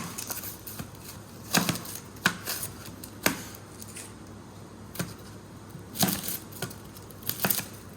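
A knife slices French shallots into fine rings on a cutting board, giving sharp, irregular chopping taps that are close and distinct against a quiet background.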